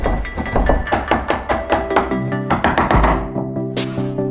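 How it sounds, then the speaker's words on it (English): A chisel is struck repeatedly to pare away the outer layer of wood from a door's latch edge, giving sharp, close, evenly spaced blows that end in a ringing metallic tone. "Use a chisel to remove the outer layer of wood,"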